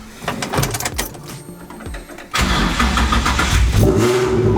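Some clicks and a cranking whir, then a Nissan 350Z engine catches and settles into a loud, rumbling idle with a slight rev.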